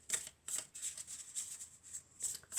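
A deck of oracle cards is shuffled by hand in quick, close, soft riffling bursts that repeat at an uneven rhythm, with no talking.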